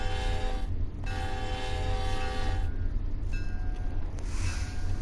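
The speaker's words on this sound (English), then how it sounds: "Another train." A passing train on the North East Corridor in the video game Train Sim World: a steady low rail rumble with a loud, sustained horn sounding in several long blasts separated by short gaps.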